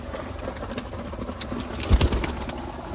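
Pet pigeons kept outdoors, low soft cooing mixed into a steady mechanical hum and ambient noise, faint and fairly distant with no speech.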